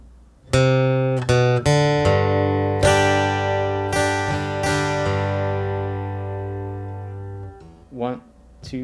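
Acoustic guitar strumming a few measures of chords from a song, a steady run of ringing strums that fades out, followed by a short spoken word.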